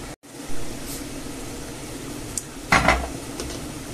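Potatoes frying in a pan for a Spanish omelette give a steady, moderate sizzle with a few scraping stirs and a brief clatter of utensil on pan partway through.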